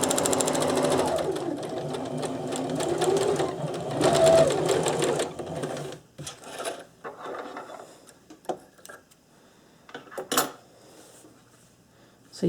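A sewing machine stitches an elastic casing on a surgical scrub cap, running in a fast, steady mechanical whir for about six seconds, then stopping and giving way to quieter handling clicks and fabric rustles.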